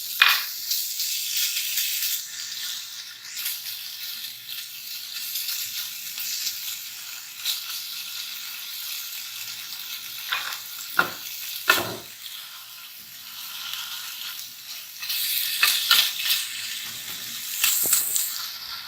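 Khoya sizzling and frying in a pan while being stirred, a steady broadband hiss with occasional scraping clicks of the spoon, close and moderately loud with no talking.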